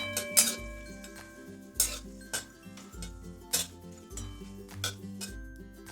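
Radhuni spice, a dried red chilli and a bay leaf are stirred in hot oil in a pan for a jackfruit curry. A utensil scrapes and clinks against the pan in sparse, sharp taps over a steady tonal background.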